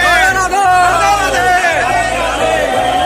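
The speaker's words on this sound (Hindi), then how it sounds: "मैंने अपने जीवन में पहली बार इतनी ज्यादा भीड़ का सामना किया है, वो भी सभ्य भीड़, असभ्य भीड़ नहीं।" A large, packed crowd at the Lathmar Holi festival in Barsana, Mathura, gives off a loud, continuous babble of many voices, with shouts and whoops rising over the dense chatter close by.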